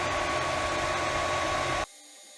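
A 3D printer, ten hours into printing a base for a Hakko 926, gives off a steady, fairly loud whirring hiss with a constant hum through it, then cuts out abruptly near the end, leaving quiet.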